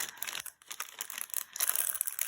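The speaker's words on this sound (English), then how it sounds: "let me just take everything out of this bag" A plastic bag holding cut-out paper craft pieces for an ice cream cone card kit crinkles and rustles continuously as the pieces are pulled out, close and fairly loud with no talk.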